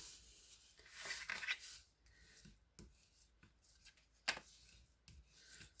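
Fold lines are scored on a paper template for an Easter basket, giving soft, close rubbing and scraping strokes in short bursts with brief pauses and a few sharper clicks.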